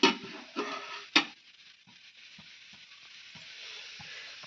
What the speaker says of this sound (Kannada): ಇದನ್ನು ತಿವಿಚಿ ಹಾಕೋ, ಸ್ವಲ್ಪ ತಿವಿಚಿ ಹಾಕಬೇಕು, ಯಾಕಂದರೆ ಈರುಳ್ಳಿ ಇರುತ್ತಲ್ಲ, ಈರುಳ್ಳಿ ಬೇಯಬೇಕಲ್ಲ